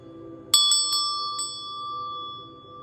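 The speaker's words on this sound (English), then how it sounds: "I'm going to ring the bell" A bell struck during a chakra energy reading rings out in four quick strikes, each leaving a clear, sustained metallic tone that hangs and slowly fades over a quiet room.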